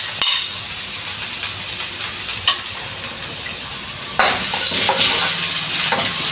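Garlic frying in a pan for Banisil, a steady bright sizzle with light stirring scrapes and a few utensil clinks, growing louder and denser in the last two seconds; no talk.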